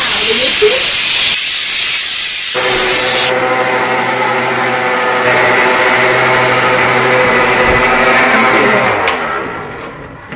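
A steam cleaner hisses continuously and loudly at close range while steaming tile grout, a dense broadband jet with a tonal whine underneath that fades toward the end.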